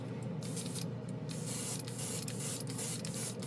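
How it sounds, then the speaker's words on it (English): An aerosol spray can hisses in a steady, continuous jet while coating a small figure with a chrome-and-varnish top coat, running close and uninterrupted for several seconds with a few brief gaps. "Let's spray our little figure guy here"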